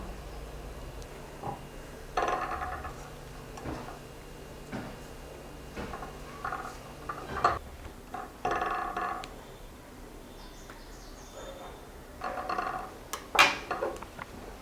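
Knife cutting green grapes in half on a board, a series of soft, close taps and slicing knocks at irregular intervals, quiet and alone.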